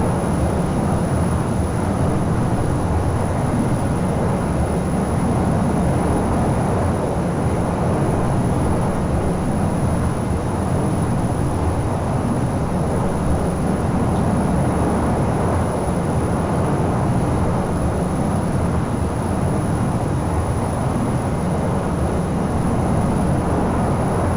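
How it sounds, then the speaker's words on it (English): Learjet 35 jet engines in cruise flight in Microsoft Flight Simulator, a steady unbroken roar with a thin high whine running continuously, no voices. "That's the Learjet, my friends. The Learjet 35."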